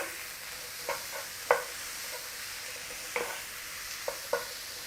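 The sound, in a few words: onion frying in a pan for beef keema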